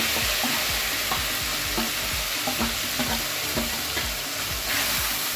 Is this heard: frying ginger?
yes